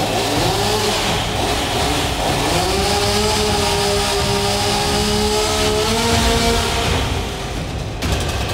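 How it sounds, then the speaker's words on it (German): A chainsaw cutting during hazardous tree felling runs loud and steady, its engine whine rising and falling in pitch for several seconds before cutting off near the end, with no talk over it. "jetzt wird wieder gesägt"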